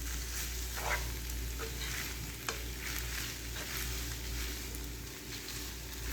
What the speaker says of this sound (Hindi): अब बस मैं इसको 1 से 2 मिनट के लिए और अच्छे तरीके से स्लो आंच पे कुक करूँगी